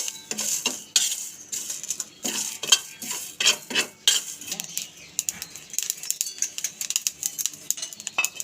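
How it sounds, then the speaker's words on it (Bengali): Whole spices such as panch phoron, cumin, coriander and dried red chillies being dry roasted in a pan give off repeated light clinks and scraping rattles as they are stirred, with small dry crackles in between, close and fairly steady. "মশলার ড্রাই রোস্ট করা এই শব্দটা"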